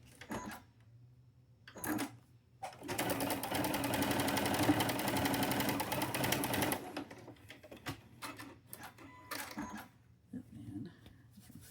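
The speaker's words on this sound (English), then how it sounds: "So we're gonna put them together just like so, and sew our 1/4 inch." A sewing machine stitches a quarter-inch seam on quilt pieces, a steady close mechanical whir lasting about four seconds, framed by handling clicks and fabric rustle before and after.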